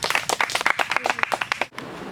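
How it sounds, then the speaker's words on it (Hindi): Audience applause welcoming a speaker at a gathering: a dense burst of close, uneven hand claps that stops abruptly, leaving a faint hush. "उनके स्वागत के लिए जोरदार तालियां।"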